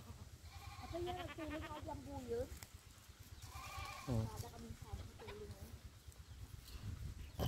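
Pet goats on a farm bleating several times, wavering cries close by over a steady low engine-like hum, with a brief spoken exclamation in between.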